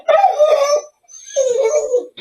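A puppy lets out two drawn-out whimpering howls, close and fairly loud, separated by a short silent gap.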